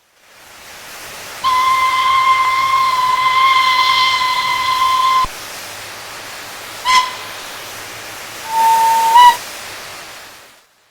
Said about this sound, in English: 56025 has a completely different whistle from the standard Caley hooter.